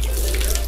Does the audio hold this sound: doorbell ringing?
no